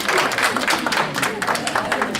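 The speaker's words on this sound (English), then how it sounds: "Can you give me another round of applause?" An audience at a stage event claps together in a dense, crackling round of applause, close and fairly loud, with voices mixed in.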